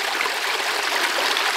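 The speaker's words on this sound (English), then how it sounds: "get some liquid, pop down to pop across to the other side, pour it down the tube" Liquid poured down a tube into lake water at a carp fishery, a steady broadband trickling, gushing rush that stays even and close throughout with no talk.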